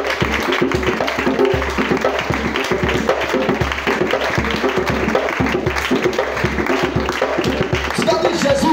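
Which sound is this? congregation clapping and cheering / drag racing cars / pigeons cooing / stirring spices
congregation clapping and cheering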